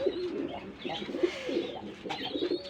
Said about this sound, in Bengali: এখানে এক পেয়ার কবুতর আছে দেখেন এটা হচ্ছে বেলজিয়াম রেসার